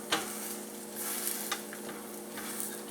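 A curly dock pancake fries in a pan with a steady, close sizzle, broken by a few sharp taps and scrapes as the edges are pressed down.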